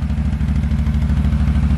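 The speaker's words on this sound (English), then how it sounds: "So that's what it sounds like on the stock exhaust." A CFMoto CForce 850 XC ATV engine runs on its stock, heat-shielded exhaust, giving a steady, muffled low throb with an even pulsing rhythm, close by and moderately loud.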